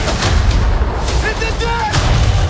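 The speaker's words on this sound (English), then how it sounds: "Cannon!" Pirate ship cannons boom in a chaotic action scene, heavy blasts at the start and near the end with shouting voices and clattering in between.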